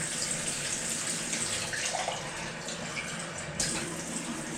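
Tap water running from a faucet, a steady close splashing hiss that continues without pause.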